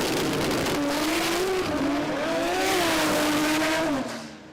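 A drag racing car launches hard down the Willowbank strip at a Brisbane meet, its engine screaming loud and close as it pulls through rising gear-like pitch sweeps for about four seconds, with a hint of tyre shake, then fading.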